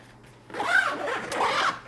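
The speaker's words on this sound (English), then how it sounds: "Let's zip that up." A zipper is pulled closed on a Lowepro Flipside Sport 15 AW camera backpack in two close, rasping strokes after a brief pause.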